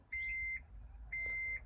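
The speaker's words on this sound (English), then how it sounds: "Beeping again." A 2013 Honda Odyssey gives two short, identical electronic beeps about a second apart during key fob programming, clear and fairly close in a quiet setting.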